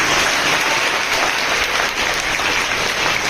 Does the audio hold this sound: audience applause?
yes